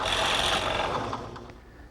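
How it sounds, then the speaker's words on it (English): A drill press with a plug cutter bores 3/8-inch plugs from solid mahogany in a boat shop, giving a brief steady whirring cut that fades out. "set up in my drill press, I'm able to cut some 3/8" diameter plugs from solid mahogany"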